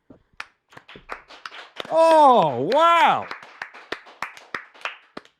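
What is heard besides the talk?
small live studio audience applauding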